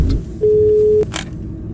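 A telephone rings inside a horror video game, a single steady electronic tone lasting about half a second over a low background hum, followed by a soft click.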